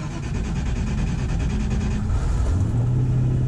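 A Land Rover Defender engine fitted with a Megasquirt ECU cranks with a rapid rhythmic starter chatter, then catches and settles into a loud, steady high idle close by.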